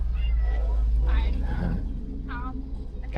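A cat inside an enclosure gives a few short meows between stretches of people talking nearby.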